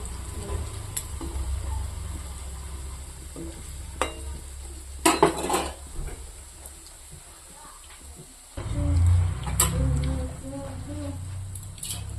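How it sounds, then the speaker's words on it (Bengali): Bora fritters fry in oil with a soft, uneven sizzle, punctuated by utensil clinks and stirring knocks, then a louder surge of frying near the end. "বড়াটা এরকম করে আমি সব বড়াটা ভেজে নেব।"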